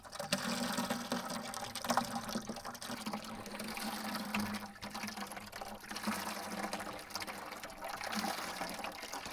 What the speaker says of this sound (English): You can see how it works quite easily to pump it when it's just going into a bucket